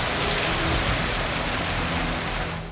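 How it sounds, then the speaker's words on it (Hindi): Monsoon rain pours down over Karachi, a dense, steady, broadband hiss of falling water that continues evenly with no voices, then tapers slightly at the end. "शहर कायद में बादलों के डेरे और वक्फे वक्फे से बारिश का सिलसिला जारी।"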